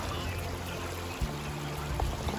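Stream water flows steadily along a rocky jungle trail in Himachal, a continuous close rushing wash with faint low hum and occasional soft knocks.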